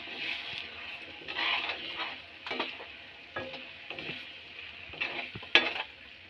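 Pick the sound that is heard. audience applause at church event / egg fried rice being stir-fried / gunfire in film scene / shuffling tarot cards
egg fried rice being stir-fried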